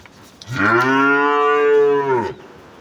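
A single loud, drawn-out moo from a nearby Holstein Friesian dairy cow, rising and holding for about two seconds before stopping, with near silence around it.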